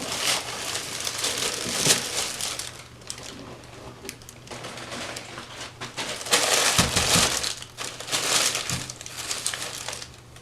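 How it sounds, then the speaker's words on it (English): Shoes being unwrapped from a dust bag and tissue paper, close loud crinkling and crumpling of paper in irregular bursts and rustles, rising and falling as the wrapping is pulled apart. "So it's wrapped up in this tissue paper."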